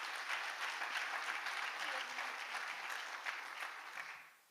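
Applause from a conference audience welcoming a university president at the opening of a day of talks, a steady wash of clapping that fades out at the end, somewhat distant and soft.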